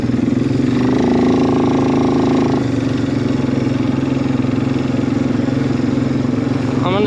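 A Suzuki ATV engine, likely a 2006 Eiger 400 or 2016 KingQuad 500, runs steadily close by on an off-road trail, holding a loud droning rumble that swells briefly near the start, with a faint voice underneath.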